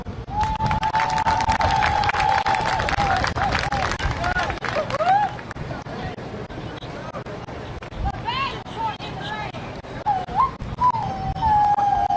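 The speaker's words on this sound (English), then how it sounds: "Please give a round of applause for all the honorees at this year's homecoming court." A stadium crowd at a Savannah State versus Middle Georgia State college football game cheers and claps for the homecoming court honorees, with broadband crowd noise under a loud public-address voice and some whistling tones.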